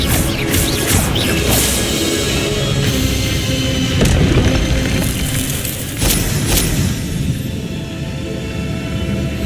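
Spell combat in the Hogwarts Legacy video game: a dense, steady run of magical crashes, booms and whooshing impacts with no talking.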